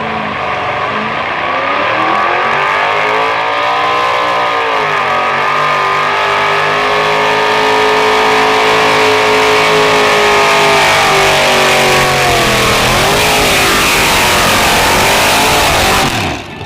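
Two-wheel drive pickup truck in a nostalgic truck pull class at a truck and tractor pull in Melbourne, Ontario, its engine roaring loud and sustained for about sixteen seconds, pitch climbing and dipping as it revs hard down the track.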